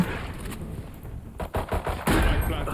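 Bursts of rapid gunfire in the video game Valorant crackle in short volleys, followed by a louder sustained stretch of shooting near the end.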